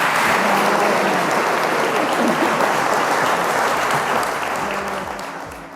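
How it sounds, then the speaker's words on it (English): An audience applauds the panel at a Farmers Weekly Question Time event at the Oxford Farming Conference, a full steady roar of clapping that tapers off in the last second, with faint voices beneath. "Please, everybody, give them a round of applause."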